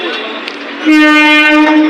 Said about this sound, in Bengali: ওটা আপের ট্রেন ঢুকেছে